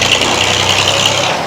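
A tractor engine runs at a steady idle close by, a continuous low rumble and rattle with no voices over it.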